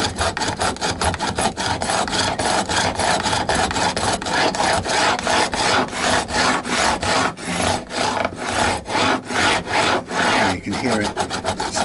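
Hand sawing during a re-fret of a Fender Lite Ash Telecaster, a continuous run of quick, rasping back-and-forth strokes into wood, close and loud, in a steady rhythm, with no voices.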